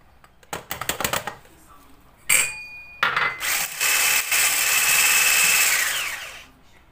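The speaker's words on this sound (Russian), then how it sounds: "И хорошо еще раз взбить" An electric mixer whips cake batter for a cottage cheese strawberry pie after sugar is added, starting with a few short bursts and then running steadily with a high whine before stopping, close and fairly loud.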